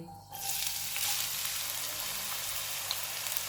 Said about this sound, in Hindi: इसको 2 से 3 मिनट तक फ्राई करेंगे।